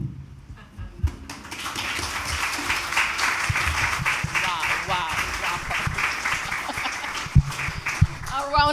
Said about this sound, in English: A round of applause for Miss Pauline.